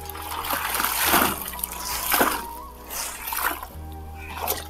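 Water pours and splashes while clothes are rinsed with fabric softener at home, irregular trickles and sloshing bursts recurring every second or so, close and moderately loud, with a voice faintly present.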